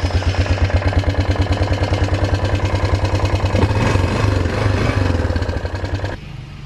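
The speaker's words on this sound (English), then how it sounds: "Now I'm going to take a ride on a four-wheeler. Let me crank this baby." A four-wheeler engine cranks with a rapid rhythmic chugging, catches and runs roughly, then drops to a quieter steady idle near the end, recorded close and loud.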